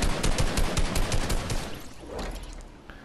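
Rapid bursts of assault rifle fire in a video game rattle out in a loud, dense volley that thins and fades toward the end.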